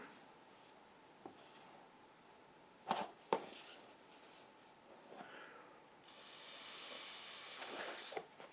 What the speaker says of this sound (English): Now I just blew through this hose and you can hear the air come out.